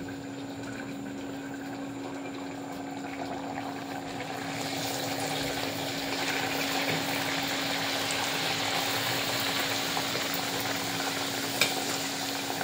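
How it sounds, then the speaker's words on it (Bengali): Luchi flatbreads fry in hot oil with a soft, continuous sizzle that thickens and grows slightly louder after a few seconds, over a faint steady hum. "এখন এই লুচিগুলো ভেজে নিই,"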